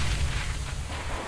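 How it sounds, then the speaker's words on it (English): A grenade explodes in a CS:GO match, a deep rumbling boom that fills the moment with dense noise and fades only slightly. "Throwing a grenade"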